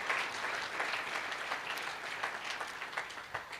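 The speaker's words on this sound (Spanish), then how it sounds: "Dale un aplauso a la palabra de Dios" A church congregation applauds during an anniversary service, a steady dense wash of clapping that carries at an even level for several seconds, with no voice over it.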